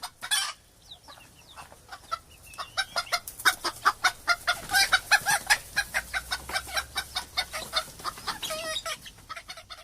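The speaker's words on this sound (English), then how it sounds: "was that a chicken" A chicken clucks in a steady run of short, sharp calls that grow denser and louder through the middle, with a few higher squawks near the end and no talking.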